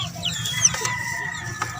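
Backyard chickens, including roosters, cluck and call nearby in overlapping bursts, with short chirpy clucks and rising squawks over a low, busy farmyard background.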